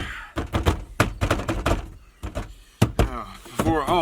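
A Silverado pickup truck door is slammed and thumped repeatedly, a series of heavy close knocks in quick succession with a voice breaking in between.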